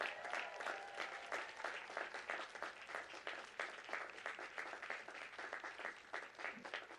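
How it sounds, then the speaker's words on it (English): Dense applause from a large graduation ceremony audience, steady rapid clapping throughout with faint crowd noise, sounding somewhat distant. "Stand up, shout out, and give yourselves applause for what you've accomplished."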